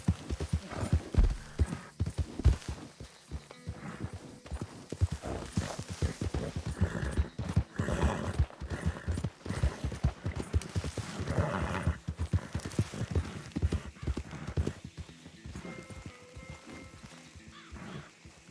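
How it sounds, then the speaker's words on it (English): Steady clip-clop of horse hooves at a trot in a video game, close and rhythmic, with a horse snorting and whinnying over a faint patter of rain. "That's Edgar's horse."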